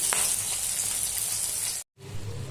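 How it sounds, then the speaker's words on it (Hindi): Fish frying in hot oil gives a steady, dense sizzle that runs close and unbroken, cuts out for a moment near the end, then picks up again. "ये मछली देखिए तला रहा है बड़े अच्छे तरीके से।"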